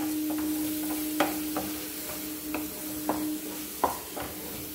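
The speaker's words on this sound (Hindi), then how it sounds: "अच्छे तरीके टमाटर भुन्नांगे" Tomatoes and masala fry in a pan with a soft steady sizzle, broken by a few distinct scrapes and taps of a spoon stirring against the pan.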